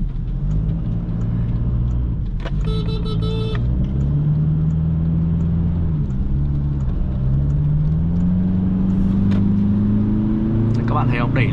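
A 2021 Toyota Hilux pickup accelerates, its engine drone heard from inside the cab and climbing steadily in pitch through the gears. A voice talks over it.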